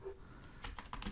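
Typing of a project folder name into a browser address bar on a computer keyboard, a quick run of several soft key clicks building toward the end, close and fairly quiet.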